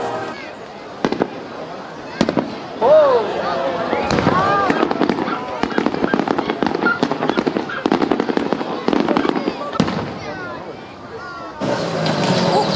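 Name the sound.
fireworks exploding in video game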